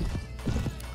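Horse hooves clip-clop in the video game Mount and Blade Warband as an injured horse moves, a few quick hoof strikes close by, with a whinny mixed in.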